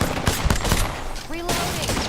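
Fortnite gunfire rattles in a quick volley of sharp, loud shots layered over game noise, with the shooting dense at first and then tapering off.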